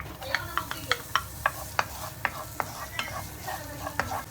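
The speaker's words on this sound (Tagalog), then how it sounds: "Igisa lang natin siya hanggang mag-brown." Asparagus, broccoli and chicken breast sautéing in a pan, a steady soft sizzle broken by a regular series of sharp scraping and tapping stir strokes from a utensil, about a dozen across the span, close and clear with no talk.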